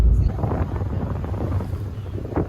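A ferry crosses the bay toward Sausalito, its low engine rumble and water rush steady under heavy wind buffeting on the microphone, with faint voices nearby.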